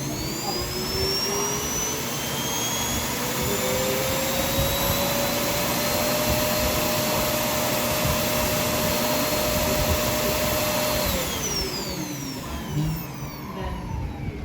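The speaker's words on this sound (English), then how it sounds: "So that was the Roomba i7 self-emptying" A Roomba i7 robot vacuum's self-emptying dock runs with a loud, steady roaring suction drone and a rising whine that holds, then winds down near the end, heard alone without talk.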